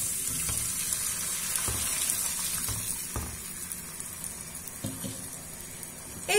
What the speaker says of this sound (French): Maintenant, je vais rajouter 700 ml d'eau chaude.